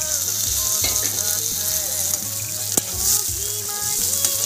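Potatoes fry in a pan with a continuous loud sizzle, broken by occasional scraping knocks as they are stirred and mashed, and no talking.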